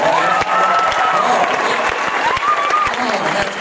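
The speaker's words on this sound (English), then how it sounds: "How about one round of applause for my friend Tim Hawkins right there?" Loud, sustained applause and crowd noise from a stand-up comedy club audience, with dense clapping filling the room throughout and voices blended in.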